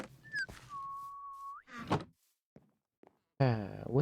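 Short whistling in Minecraft with the Twilight Forest mod, a brief rising note then one long steady tone, followed by thunks and a soft voice-like sound near the end.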